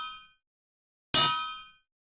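A Minecraft anvil landing, heard as a single bright metallic clang with a ringing tail, loud and isolated, following a fading earlier metallic ring.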